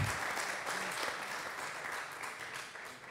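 Audience applause for a speaker at a peasant-farming university talk, a steady wash of clapping hands that holds fairly even for a few seconds without a break.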